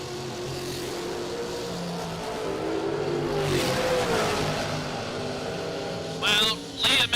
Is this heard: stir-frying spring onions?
no